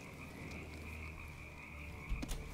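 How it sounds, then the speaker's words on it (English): Frogs croak in Dishonored 2, set in Dunwall, as a steady, close chorus over a low ambient hum, with a couple of louder knocks near the end. "Hey, I didn't know Dunwall has frogs."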